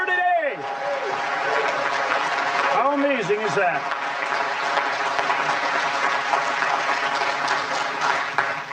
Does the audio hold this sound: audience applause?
yes